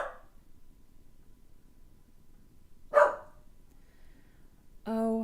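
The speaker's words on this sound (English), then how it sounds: "What you barking at?" A pet dog named Heidi gives two short, sharp barks a few seconds apart indoors, fairly faint against a quiet room.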